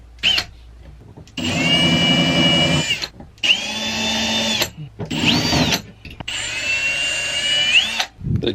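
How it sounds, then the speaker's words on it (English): A power drill whines in several bursts of a few seconds each while installing an RV window frame, rising and falling in pitch, with short pauses between them, close and loud. "grab my drill and install it"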